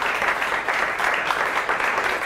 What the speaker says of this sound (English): the applause belongs to them